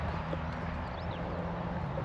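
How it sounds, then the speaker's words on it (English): Horses walk along a hiking route in Sweden, their hooves a soft, steady clip-clop at moderate distance over low background noise. "And horses again. We have seen so many horses these few days."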